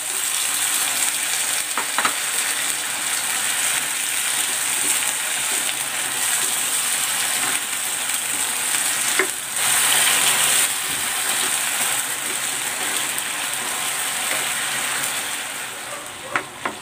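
Pork stir fry with its marinade and sauce sizzling loudly and steadily in a hot pan, a continuous crackling hiss with occasional stirring clinks and scrapes, close by.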